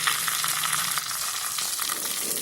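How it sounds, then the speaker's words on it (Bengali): Stuffed flat beans fry in a covered pan, giving a steady, dense sizzle and crackle that holds at an even level throughout, close and loud with no talking. "ঠিক এইরকমভাবে শিমগুলোকে ভেজে নিতে হবে।"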